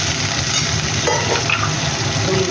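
Water poured into a hot frying pan while cooking a vegetarian banana flower curry with coconut and chickpeas, giving a steady, close hiss and sizzle that runs unbroken, with faint stirring and no talk.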